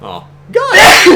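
A single loud, close sneeze bursts out after a short exclamation, a sharp, breathy explosion of air with a quick intake before it.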